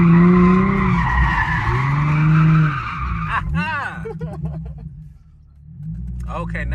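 A Nissan 350z drifting through a corner, with loud tire squeal and skidding over revving engine noise, close and intense, easing off midway before picking up again, with voices talking over it.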